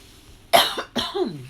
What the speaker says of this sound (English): what in my throat got me coughing?